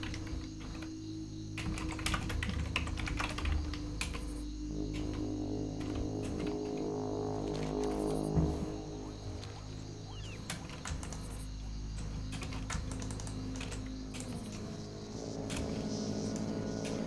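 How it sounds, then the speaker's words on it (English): Rapid clicking keystrokes on a computer keyboard, close and continuous in uneven bursts over a low background hum, with no voices. "Typing."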